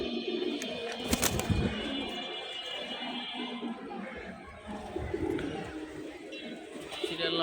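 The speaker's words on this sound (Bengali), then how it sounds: "এক পেয়ার তোতা সিলভার কবুতর" Pigeons, including silver pigeons, coo at a pigeon market stall, producing low soft coos among broadband bird chatter and background noise, steady throughout with one brief louder burst near the start.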